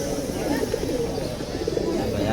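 Giribaz pigeons at a busy Fatullah pigeon market coo in low, throaty, repeated calls close by, over a steady murmur of the crowd and faint voices.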